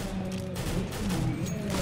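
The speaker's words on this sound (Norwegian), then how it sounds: "får et par skudd på Harre" Gunfire from a competitive shooter video game at a LAN tournament grand final, a dense continuous burst of shots filling the whole stretch at steady loudness.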